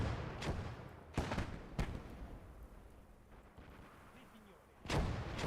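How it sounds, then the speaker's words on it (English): Mortar and artillery fire in the WWII strategy game Gates of Hell, Italian campaign: several booming blasts at irregular intervals, spaced by moments of quieter battlefield rumble. "there goes the mortar"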